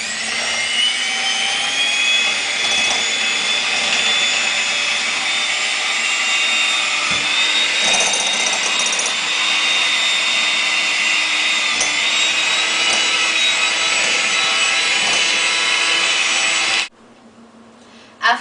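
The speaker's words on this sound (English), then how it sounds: "take your electric mixer and start to beat it until it's" Electric hand mixer beating sugar and butter for a vanilla wafer cake, a loud steady motor whine with a scraping whir that runs unbroken for most of the time, then cuts off abruptly near the end.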